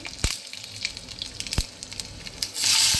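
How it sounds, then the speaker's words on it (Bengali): Mustard seeds and chopped green chillies frying in hot white oil for poha pulao, a steady hiss broken by a few sharp pops and crackles, close and loud, swelling at the end. "প্রথমে সাদা তেল দিয়ে দিয়েছি তারপর দিলাম সর্ষে ফোড়ন কাঁচা লঙ্কা কুচি"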